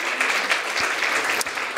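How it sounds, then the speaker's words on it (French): A church congregation applauds the grandmothers, a brief burst of dense clapping lasting under two seconds. "On veut vraiment vous applaudir."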